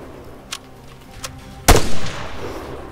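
A single loud, close gunshot from an infantry firefight in the video game Arma 3, aimed at a machine gunner, cracks out after two faint distant pops, with a short rumbling tail.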